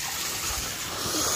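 Very cold water splashes and pours continuously for washing hands and feet at a Himalayan temple in winter, a close, steady broadband rush with no speech.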